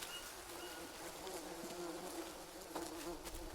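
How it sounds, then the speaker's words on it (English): Continuous droning buzz of a swarm of bees in the Green Hell jungle survival game, a steady close hum with slight wavering and no talking over it. "In case you can't hear that, those are bees."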